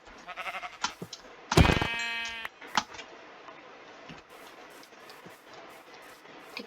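Sheep bleat in a Minecraft survival game, one loud, close bleat standing out among quieter game sounds and clicks, followed by a few fainter sounds.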